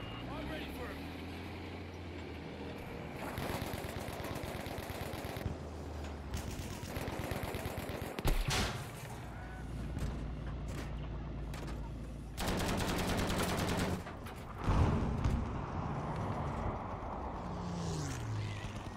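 Rapid gunfire in Battlefield 5: long bursts of fast automatic shots come in waves over a busy battlefield din, with a voice talking in between.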